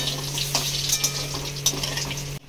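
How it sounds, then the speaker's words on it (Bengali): Potatoes frying in hot oil on a stove give a steady close sizzle with a few brief stirring clinks, then stop abruptly at the end. "আলুটাকে আগে ভেজে লাল করে ভেজে তুলে নেব আলুটাকে"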